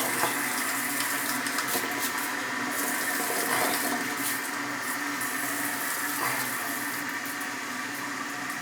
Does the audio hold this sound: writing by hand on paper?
no